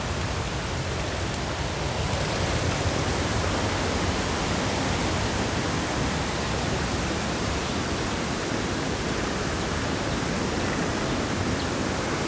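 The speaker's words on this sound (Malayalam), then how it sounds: "ചെറിയൊരു വെള്ളച്ചാട്ടം" Small waterfall in the Ezharakund falls area of the Paithalmala valley, North Kerala, a steady dense rush of falling water heard up close, continuous and loud with no voices.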